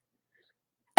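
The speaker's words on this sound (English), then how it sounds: "That's why I was coughing all of a sudden." One brief, abrupt cough sounds close up right at the end of a silent moment, short and loud.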